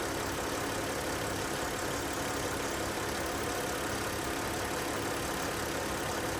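A Mercedes E320 engine idling steadily close by, a constant dense hum and hiss with no talk over it.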